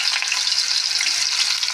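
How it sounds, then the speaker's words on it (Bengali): Boiled elephant foot yam sizzles steadily in hot oil, a continuous close, bright frying hiss with faint stirring ticks and no voices. "উল্টা বলে ভেজে নেবে"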